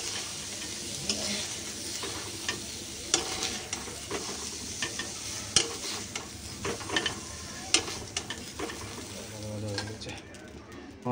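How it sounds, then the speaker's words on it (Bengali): Soybean chunks fry in oil in a pan, a continuous sizzle broken by repeated sharp scrapes and clinks of a stirring spoon, with faint birdsong in the background. "সয়াবিনটা ভাজা ভাজা হয়ে গেছে"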